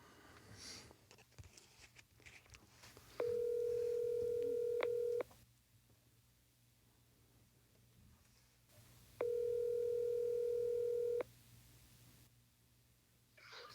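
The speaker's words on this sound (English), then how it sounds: "let's see if we can get Kyle on the phone." Two long, steady telephone ringback tones sound over a quiet line, each lasting about two seconds and separated by a pause, after a brief bit of faint noise at the start.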